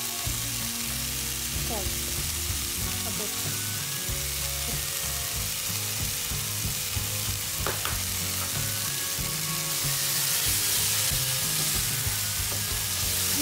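Sizzling pan with cheese melting in it, garlic about to be added for a cheesy pasta; steady close frying hiss with stirring scrapes throughout and a voice talking briefly.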